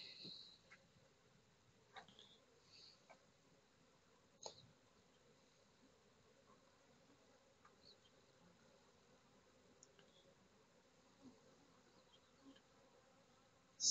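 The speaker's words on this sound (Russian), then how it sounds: "летают перед лицом две пчелки. Возмущаются что-то." Two honeybees circle in front of a beekeeper's face during a hive inspection, giving faint, intermittent buzzes and brief passes against near silence, with a louder knock at the very end.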